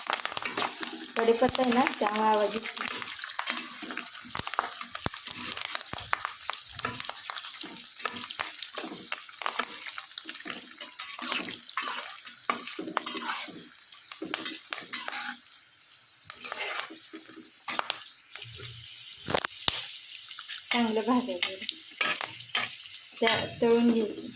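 Peanuts, coconut and curry leaves crackling in hot oil for a spicy Kolhapuri chivda, with continuous sizzling, frequent spoon clinks against the pan and someone talking over it.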